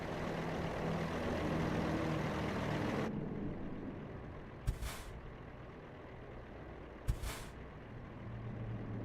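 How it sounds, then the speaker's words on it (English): A truck engine rumbles steadily in American Truck Simulator, then cuts out and is punctuated by two short, sharp hissing air brake releases a few seconds apart over a lower idling drone. "Okay, we've got regular engine sounds now."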